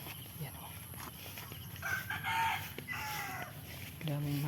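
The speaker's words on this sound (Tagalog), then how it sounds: "daming manok dito na" Fighting roosters on a small farm, crowing and clucking close by in short overlapping calls, with a louder crow rising near the end and quiet talk underneath.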